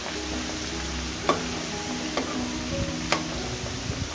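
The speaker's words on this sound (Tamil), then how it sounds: "இப்போ இடித்து வச்சுருக்க பூண்டை சேர்த்து அந்த பூண்டை அந்த எண்ணெயிலே நல்லா வறுக்கணும்" Crushed garlic frying in oil over low heat for bilimbi pickle, a soft steady sizzle with a few faint clicks of a spoon against the pan.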